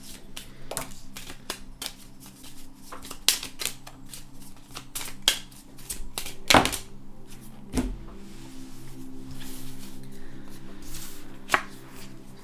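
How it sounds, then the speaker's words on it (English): Tarot cards being shuffled by hand, giving a steady run of soft papery riffles and light taps with a few sharper snaps, close and fairly quiet, with no talking. "We'll shuffle the rest, because this is way too many to put on the table right now."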